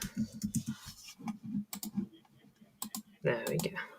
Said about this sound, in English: Type this.